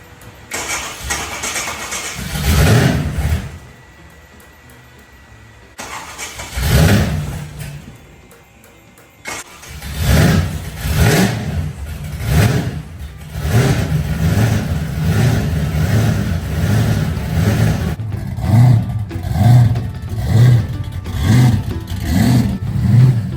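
A 1968 Chevy Biscayne with 71k original miles cranks and fires up, stalls once, then catches and settles into a loud, throbbing idle punctuated by repeated revs, close and alone.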